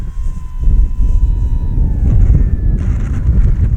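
Strong wind roars steadily across the microphone outdoors while an FMS Pilatus RC plane flies, with a faint engine whine drifting in pitch above the loud, buffeting gusts.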